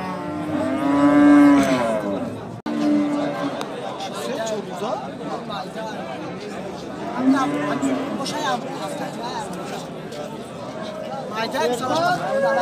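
Cattle and calves low and moo at a busy livestock market, several long bellows rising over a constant crowd murmur and nearby chatter.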